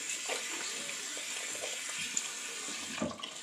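Water running from a tap while someone rinses their face at a sink after washing with a Neutrogena face bar, a steady soft splashing rush with a few brief splashes, close and alone.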